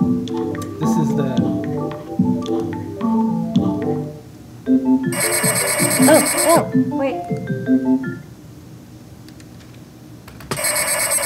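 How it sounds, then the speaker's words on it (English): Telephone ringing in bursts of harsh electronic bell tone, with one long ring in the middle and another starting at the end, close and loud amid people talking and other tonal electronic sounds. "It's ringing."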